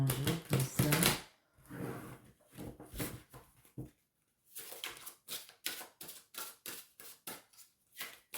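Cards shuffled by hand in rapid clattering bursts, a dense flurry at first, a pause, then a run of quick separate flicks and taps close by, with no talk.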